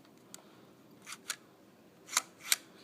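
A Nintendo GameCube disc drive laser moving back and forth, heard as a few quiet, sharp mechanical clicks and whirs spaced irregularly, the last two louder and close, against near silence.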